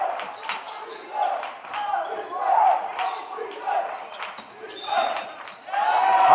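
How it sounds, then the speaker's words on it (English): A basketball crowd in a gym chants rhythmically in waves of rising and falling voices, with sneaker squeaks, ball bounces and a commentator talking over it. "Crowd chanting defense."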